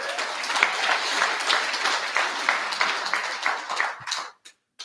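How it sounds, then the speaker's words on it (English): A crowd at a political rally of independent groups claps loudly and densely, sustained and close, before the applause thins out and stops with a few last isolated claps. "So give yourselves a round of applause first."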